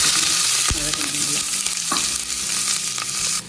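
Onions and green chilies sauté in hot oil in a pan while cooking prawn biryani, a loud steady sizzle and frying hiss with stirring scrapes, close up and without talk.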